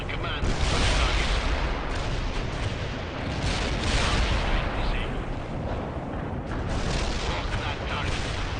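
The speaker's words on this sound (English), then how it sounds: "Heavy artillery strike fire" Heavy artillery strike in the World in Conflict game, a dense, continuous rumble of shell impacts and booms filling the scene, with intermittent voice chatter layered over the bombardment.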